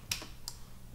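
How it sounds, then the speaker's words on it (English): Two quick key clicks on a computer keyboard as a Control+J shortcut is pressed while editing a photo, close and crisp against a quiet room. "I duplicated my layer by pressing Control and J on the keyboard"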